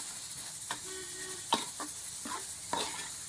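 Onions frying lightly in a pan for country chicken dum biryani, with a soft steady sizzle and a few sharp stirring scrapes and utensil clinks spread across the moment, fairly quiet and with no talking.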